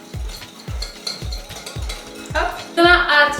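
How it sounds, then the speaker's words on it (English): Tuna steak ingredients with salt, pepper and chili stirred in a pan, a utensil scraping and knocking in a steady repeating rhythm of low thuds, then brighter clinks near the end. "You can start to stir."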